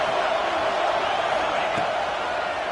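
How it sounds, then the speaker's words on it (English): A dense, steady roar of a large crowd at a football game fills the air, loud and continuous without distinct peaks. "This crowd bringing the energy and noise early."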